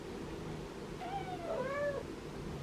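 Several cats meow softly at breakfast time over a steady background hum, one drawn-out rising and falling call overlapping another, moderately near.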